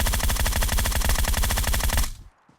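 A rapid, loud burst of automatic gunfire in PUBG Mobile rattles in an even stream of close shots for about two seconds, then cuts off abruptly into near silence.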